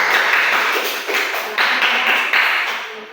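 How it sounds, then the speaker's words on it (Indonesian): Students clap for a classmate in a classroom, a short burst of loud, close hand clapping that surges in a few waves over about three seconds, with no talking. "tepuk tangan untuk Linda"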